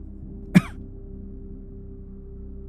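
A single short cough, close by, over a low background hum and otherwise quiet surroundings.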